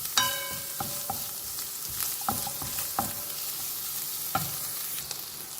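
Cooked chicken meat and spices frying in a pan for sambusa filling, a steady sizzle broken by sharp scraping and stirring clatters at irregular intervals, close and moderately loud with no talk.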